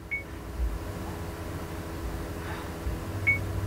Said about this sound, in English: You're hearing those beeps.